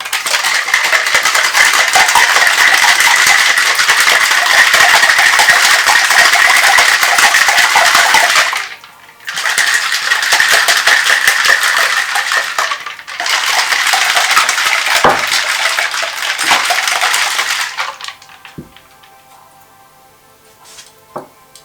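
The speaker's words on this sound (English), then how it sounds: "Now we're going to give it a good shake." A cocktail shaker packed with ice and lime is shaken hard and steadily in two loud, continuous bursts with brief pauses between them, followed by quieter clinks as the drink is set down.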